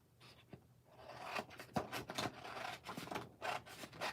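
Scissors cutting paper down roughly by hand to make layers for a shadow box, a run of close, dry snipping and rustling strokes that continue steadily with no talk.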